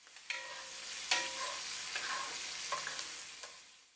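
Food is tossed and stirred in a hot frying pan, a loud continuous sizzle broken by several sharp scraping and clattering bursts as the utensil moves the contents around.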